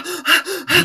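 A person imitates frightened heavy breathing with a series of sharp, rasping gasps, about three quick inhales and exhales in a rapid rhythm, close to the microphone.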